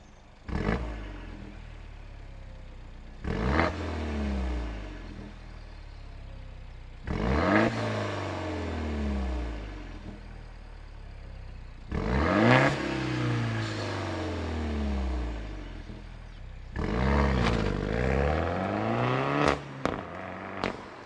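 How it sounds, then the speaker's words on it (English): A Peugeot 308 GTi engine revs hard right next to the exhaust, four or five separate roaring bursts that climb in pitch and fall away, loud and harsh between idle pauses. "let me whack you right next to the exhaust and we'll give you a few revs"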